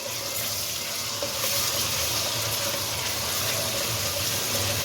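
Ginger garlic paste frying in a little oil for fish karahi, a continuous close hiss and crackle with faint stirring and no talk.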